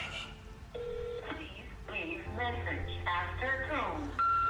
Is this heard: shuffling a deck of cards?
no